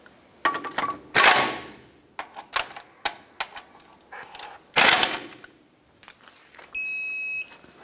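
Brake caliper bolts being tightened on a 2008-2010 Ford F-450 Super Duty, heard as bursts of rapid ratchet clicking and metallic clatter separated by brief pauses, close and fairly loud, ending in a high electronic beep.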